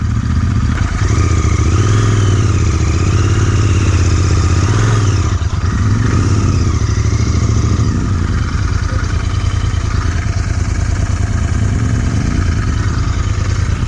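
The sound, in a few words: Royal Enfield Interceptor 650 motorcycle engine revving off-road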